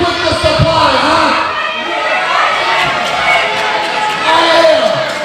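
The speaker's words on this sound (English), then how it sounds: "And you're gonna boo me? Yes, they are. They are going to boo you." Wrestling crowd at a Next Up Pro show in Virginia, a sustained roar of voices that rises and falls, jeering at a heel wrestler, with a voice talking over the noise.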